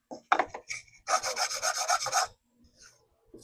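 Oak pieces rubbed over sandpaper by hand: a few short scratchy strokes followed by a longer rhythmic run of rasping back-and-forth passes, close and fairly quiet, then stillness.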